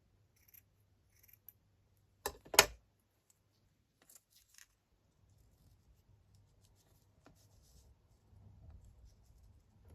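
Scissors cutting scraps of paper board, one sharp close snip standing out among a few faint rustles and clicks in a quiet room.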